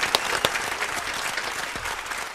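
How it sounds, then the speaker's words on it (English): A burst of clapping from a crowd, steady and fairly close, with a few sharper claps standing out near the start. "Big round of applause."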